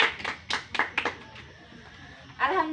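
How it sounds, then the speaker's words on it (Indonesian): A small class claps for a student group, a few sharp separate hand claps early on, then a quieter gap before a short burst of noise near the end. "Tepuk tangan untuk kelompok 2."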